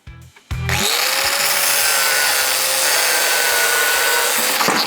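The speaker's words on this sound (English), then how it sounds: "Do you want to grind that bolt off?" Grinder cutting a bolt off a stripped 7.5-tonne truck chassis, a loud steady metallic grinding that starts abruptly after a brief knock and runs unbroken to the end, close by and with no talking.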